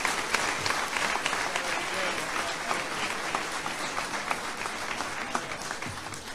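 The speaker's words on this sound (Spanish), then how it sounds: "escucha aplausos" An audience gathered outside a Rafael Correa talk, following it on a screen, claps continuously in a dense, steady wash of applause that holds at an even level throughout.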